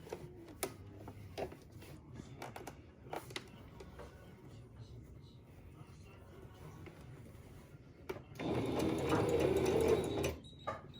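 Sewing machine stitching a reusable fabric face mask, first a few light mechanical clicks and rustles, then a loud close run of rapid whirring stitches for about two seconds near the end.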